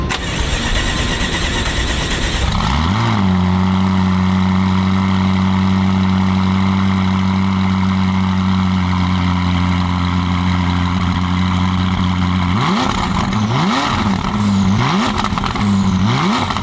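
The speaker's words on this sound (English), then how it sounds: "So now you're gonna hear what the stock exhaust sounds like. Give it a couple blips." A cold car on its stock exhaust idles loudly and steadily after the engine catches, then gets a few quick throttle blips near the end, each rising and falling in pitch.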